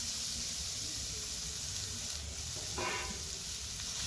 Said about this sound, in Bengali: এবারে দিয়ে দিচ্ছি কেটে রাখা আলুগুলো এবং কাঁঠাল বীজগুলোও দিয়ে দিচ্ছি